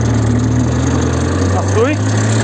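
A tracked vehicle engine hums steadily in a forest, holding a continuous low drone with a brief rise as it is revved, while a voice speaks over it.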